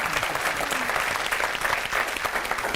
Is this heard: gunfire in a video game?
no